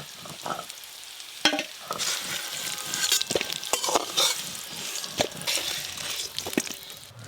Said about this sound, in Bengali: আলুগুলো খুব ভালো করে ভেজে নিয়েছি